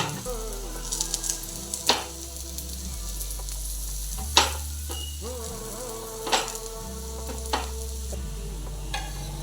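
Cabbage tikki frying in oil in a pan, with a constant soft sizzle broken by occasional utensil taps and scrapes, over a low background hum.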